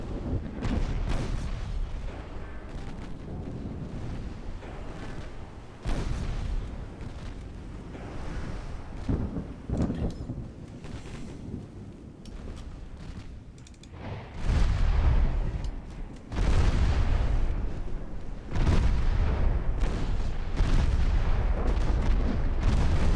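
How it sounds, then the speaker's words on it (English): Naval guns and a turret blowing up in a dreadnought warship battle game, with deep booming blasts and rumbling explosions that build up loud and heavy toward the end. "And the turret even goes boom."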